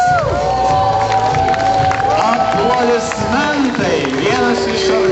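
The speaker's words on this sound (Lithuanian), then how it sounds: "Aplodismentai" Crowd at a cycling marathon awards ceremony claps and cheers for a third-place finisher, lively shouts and whistles rising over the applause with voices mixed in throughout.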